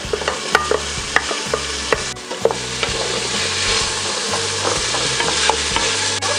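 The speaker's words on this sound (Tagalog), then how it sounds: "Ngayong medyo nagisa na natin yung ating luya, isunod po natin itong ating kamatis." Tomatoes sautéed with ginger in a pan for a Filipino Bisaya beef stew, a continuous loud sizzle with spatula scrapes and clinks stirring through it, close and without talk.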